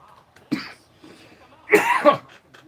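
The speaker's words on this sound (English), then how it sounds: "I cough a lot in the morning." A man coughs in the morning, a short single cough followed by a harsher, louder double cough, close up with no other talking.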